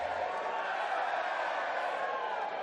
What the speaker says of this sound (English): just a little bit of noise from the crowd